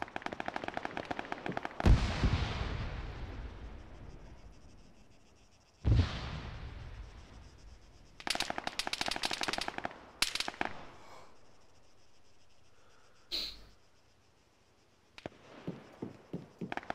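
Video-game gunfire erupts in several bursts: sharp single shots with decaying echoes, rapid automatic volleys, and scattered pops between quiet gaps, loud and close.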